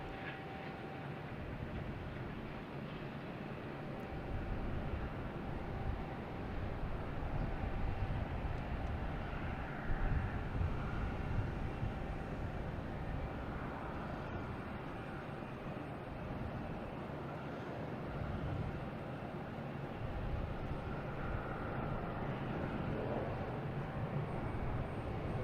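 A JetBlue jet airliner at Boston Logan Airport roars steadily from a distance, a broad continuous rumble that swells slightly midway and holds for the full length without talk.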